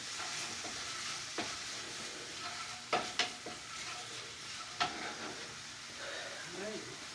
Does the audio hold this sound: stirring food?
yes